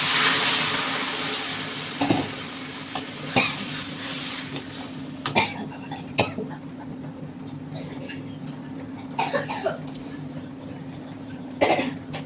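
Spices sauté in a pan for a hilsa fish curry with eggplant, potato and long beans. A low, steady sizzle runs underneath, broken by scattered scrapes and knocks of a spoon against the pan and an occasional cough.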